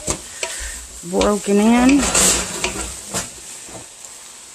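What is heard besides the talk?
stirring chow mein with cabbage in a pan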